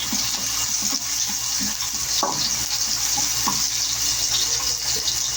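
Ginger, garlic and lemongrass sautéing in a pan for chicken ginataan with papaya, a steady loud sizzle broken by scraping stirs and light clinks, with no talking.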